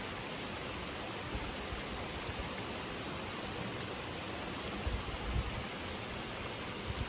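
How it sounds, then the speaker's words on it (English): Steady heavy rain pours down on a farm during a thunderstorm in a continuous hiss, with occasional heavier patters and splashes on new concrete; no voices. "the rain, it was just rushing down all over the new concrete"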